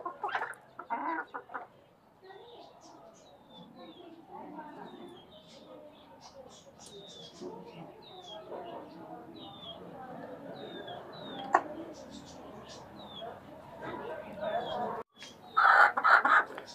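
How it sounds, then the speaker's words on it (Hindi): Backyard desi and Australorp hens cluck and murmur softly at moderate distance while pecking about, with a rooster among them; brief human speech surfaces near the start and end. "ये भी हमारी मुर्गी हैं"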